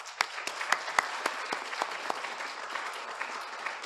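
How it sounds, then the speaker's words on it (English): An online arbitration conference audience in Bucharest applauds its panel speakers: a small, sparse scattering of individual claps, sharp and distinct at first, then thinning into a softer patter. "Please join me in a round of applause for our speakers."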